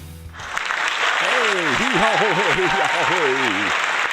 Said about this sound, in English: So give a nice big round of applause for Bruce Goldberg.